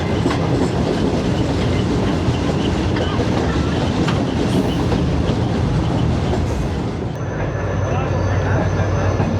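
Shalimar Express rolling over rails near Khanewal toward Multan Cantt, a loud continuous rumble with rhythmic clickety-clack heard from aboard, steady throughout with a slight change in tone near the end.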